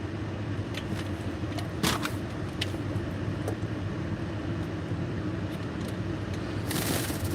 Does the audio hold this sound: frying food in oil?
no